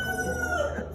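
A rooster crows once, a drawn-out, strained call heard close by over faint background noise.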